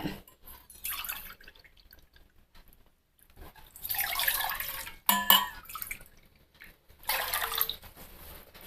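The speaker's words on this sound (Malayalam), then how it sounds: "ഇനി നമുക്കിതിൽ ആവശ്യമുള്ള വെള്ളം ഒന്ന് തിളപ്പിച്ചെടുക്കാം." Water is poured into a pan in a home kitchen to be brought to a boil for sweet wheat pidi dough, heard as three separate pouring and splashing bursts with a sharp clatter between them and quiet gaps.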